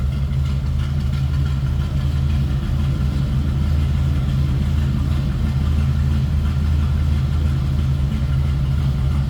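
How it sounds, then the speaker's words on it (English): A 1984 Chevrolet K10 regular cab shortbox pickup idles with its 350 V8 and mild cam, giving a steady, loud, close-up low rumble that holds evenly throughout with no talking. "a little rumble coming out of that 350, mild cam"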